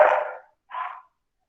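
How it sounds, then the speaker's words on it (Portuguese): Agitated dogs at a home give two short, fairly close barks, one right after the other, with no other sound around them. "Só um minutinho, os cachorros aqui estão agitados."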